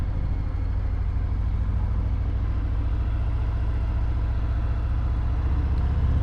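A 2018 Harley-Davidson Fat Bob's large engine with a Screamin' Eagle exhaust rumbles steadily, a deep, loud, continuous throb that stays even throughout with no talking.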